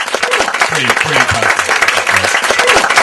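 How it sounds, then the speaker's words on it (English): Wedding guests break into applause, a short dense burst of clapping, with voices calling out and chatter mixed in. "so grand applause for this"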